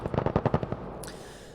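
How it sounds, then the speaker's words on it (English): A video game light machine gun fed from a large drum magazine rips off a rapid burst of about ten close, punchy shots, then cuts off into a fading tail. "St. Lucifer is hanging back with that LMG, putting that giant drum mag to work"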